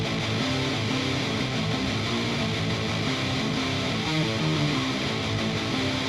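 Saturated Kontakt synths sit inside a wall of heavy distorted metal guitars, a dense, loud, continuous mix with chugging low notes and no voices.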